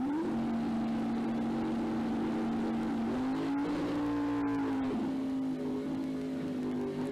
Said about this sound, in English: Definitely likes a lot of wheel speed on his burnout